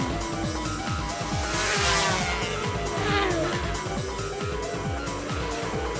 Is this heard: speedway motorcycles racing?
yes